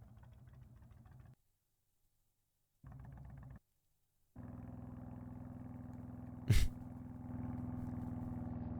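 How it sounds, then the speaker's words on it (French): A motorcycle taxi leaving town, its engine running in short bursts separated by silences, then settling into a steady, moderately loud drone with one sharp bang partway through. "On arrive, on va en moto."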